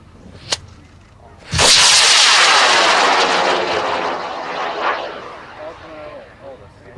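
Model rocket launching on an I110 motor: a sharp click, then a sudden loud whooshing roar that fades gradually as the rocket climbs away.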